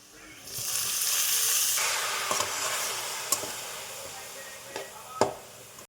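Chopped banana flower hits a hot pan of fried onions and sizzles loudly, the hiss slowly fading while a utensil clinks and scrapes a few times.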